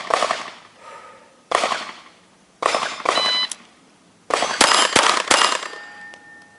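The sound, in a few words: gunshots from a 1935 Beretta .32 ACP pistol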